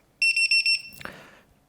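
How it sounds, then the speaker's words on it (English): The buzzer on a HellGate FPV drone sounds in its alarm state, a quick run of about six sharp, loud, high-pitched beeps followed by a brief clatter and a fading tail. "now it goes to the alarm state, and it beeps like this for 3 days"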